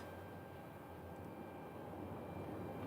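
An American Airlines airliner on final approach to land at Phoenix Sky Harbor airport, a steady, distant engine roar with a faint whine, droning continuously without any break.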